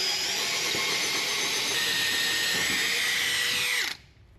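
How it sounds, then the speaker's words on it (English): A power drill bores through a small block of wood placed under a slab, whirring loud and steady for about four seconds before it stops abruptly. "We drill through it"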